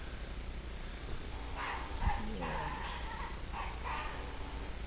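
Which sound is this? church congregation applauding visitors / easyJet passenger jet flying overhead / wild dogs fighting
wild dogs fighting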